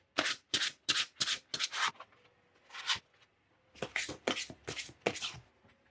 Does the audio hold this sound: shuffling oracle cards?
yes